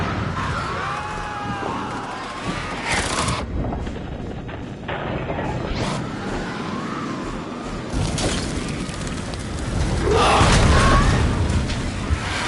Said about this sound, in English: Grenade to the face there.